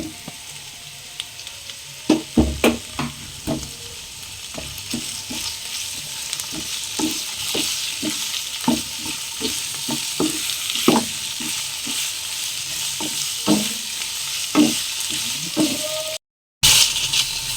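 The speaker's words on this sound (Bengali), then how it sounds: "চিকেনটা আমার ভাজা হয়ে গেছে," Chicken sizzles in a pan with onion, garlic and ginger, frying steadily throughout with repeated scrapes and stirring knocks of a utensil, close and fairly loud.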